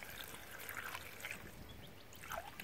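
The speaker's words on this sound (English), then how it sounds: "So we've got some more water from his tank. I'm just gonna top it up till it's full." Fish-tank water is poured outdoors to top up a container, a soft steady trickle and splash that swells briefly near the end, with no voices.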